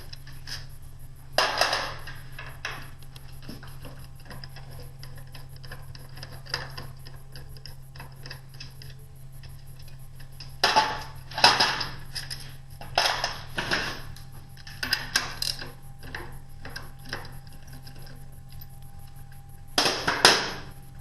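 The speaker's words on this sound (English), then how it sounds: "go ahead and remove the 3 remaining bolts that hold the controller down." Scattered metallic clinks and taps from bolts being removed while taking out an M-23 controller, brief and fairly faint over a low steady hum with long quiet gaps.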